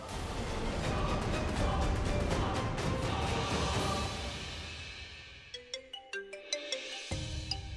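A phone ringtone plays as a series of short, bright electronic tones in a melodic pattern, rising clearly after a noisy dramatic music passage fades out.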